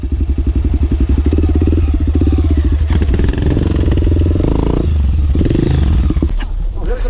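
A dirt bike on a Trilhão trail ride in Ouro Verde de Minas chugs and revs loudly up close, with a throbbing idle that surges between throttle blips. Clattering rattles sound now and then, and a voice speaks briefly.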